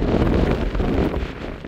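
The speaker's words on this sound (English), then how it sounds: "Now that we're on the ridge, the wind's picked up again." Strong wind buffets the microphone on an exposed mountain ridge in the Scottish Cairngorms area, a steady loud roaring rush with low gusty rumble throughout and no voices.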